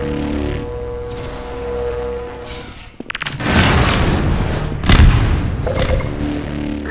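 Grenade explosions in a Half-Life 2 Deathmatch match, two loud booming blasts about two seconds apart, each followed by a rumbling crackling tail, over quieter game ambience.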